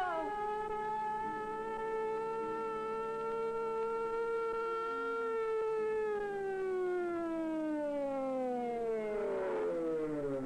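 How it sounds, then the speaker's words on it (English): An ambulance siren wails in a 1966 roadside emergency birth scene, a long, slowly sweeping tone that holds steady and then bends downward as it passes, heard alone without talk. "Here's the ambulance."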